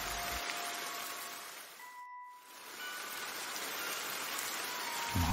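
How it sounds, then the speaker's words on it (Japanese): Steady rain pours at night outside a mountain cave in an anime scene, a dense, even hiss that thins briefly for a moment before returning at full strength. "雨も降ってるし危ないですよ。"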